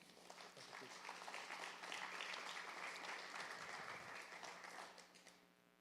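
A church congregation applauds steadily for several seconds, a broad sustained wash of clapping that swells and then fades toward the end, with no voice on top.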